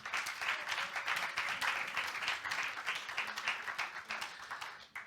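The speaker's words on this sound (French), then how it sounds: "Est-ce qu'on peut acclamer pour le roi des rois?" A church congregation applauding together, rhythmic rapid clapping at moderate loudness that keeps going steadily before tailing off at the end.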